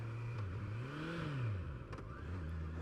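A Honda CBR650R motorcycle engine, fitted with an automatic E-Clutch, drops through a downshift; its moderately near revs rise and fall smoothly in a short blip, with no talking.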